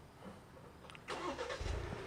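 A 2022 Maserati Levante Hybrid engine cranks and fires up in normal mode, a short burst of starting noise rising into a low rumble, fairly quiet and close.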